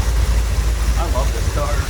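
A 1964 Chevrolet Corvette coupe with its 327 V8 idles with a deep, low, lumpy rumble up close, steady and fairly loud, while a voice talks over it.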